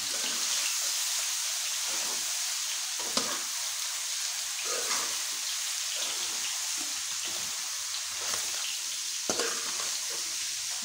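Rice stir-frying in a pan for Chinese-style fried rice makes a constant close hiss, broken by occasional scrapes and knocks of a spoon mixing it, with no voices over it.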